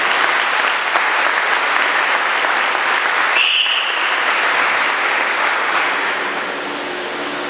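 A church congregation applauds, with loud, sustained clapping from a large crowd that keeps up evenly and then eases slightly toward the end.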